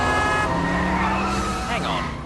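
A car brakes hard and skids, tyres squealing in wavering, rising and falling tones over a loud rushing engine and road noise.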